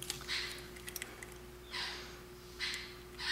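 Three distinct sniffs up close, spaced about a second apart, as someone smells a banana and dark rum vape liquid in a quiet room.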